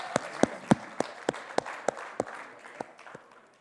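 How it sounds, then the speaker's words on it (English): A few people at a school talent show finale clap for the judges, with about a dozen separate, sharp claps in an irregular rhythm that thin out and fade. "Give a big round of applause for our judges."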